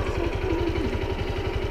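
A Honda Fan 150 motorcycle engine runs close by with a steady throbbing, low pulsing rhythm, holding fairly constant throughout the short stretch.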